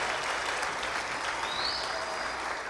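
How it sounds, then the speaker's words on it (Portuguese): A church congregation claps together in sustained, dense applause at a worship service, steady and fairly loud throughout, with no talking. "Dê uma forte salva de palmas para Jesus."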